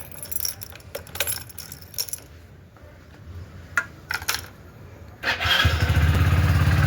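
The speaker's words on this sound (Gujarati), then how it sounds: "બાઇક ગરમ કરવા મૂકી દઉં" Keys jingle and rattle for a few seconds, then a motorcycle engine kicks to life and settles into a steady, close idle.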